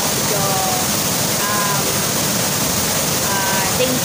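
A waterfall in the Philippines sends strong falling water down in a steady, loud, close roar, with faint voices in the background.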